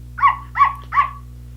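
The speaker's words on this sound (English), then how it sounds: "Here's what a dog sounds like." Three evenly spaced dog barks from a children's animal-sounds collection, each a short clear bark standing alone over a faint steady low hum, with brief gaps between them.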